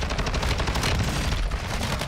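Rapid automatic gunfire from a Call of Duty match, loud, close bursts firing in a fast, even rhythm without a break.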